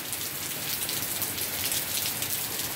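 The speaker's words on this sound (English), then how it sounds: "It is raining up a storm." Heavy rain pours steadily onto surfaces, a dense continuous hiss of drops at moderate volume with no voices.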